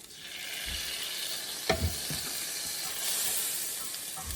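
A sourdough tortilla fries in a buttered skillet with a steady, close hiss, broken by one brief clatter partway through, with no speech.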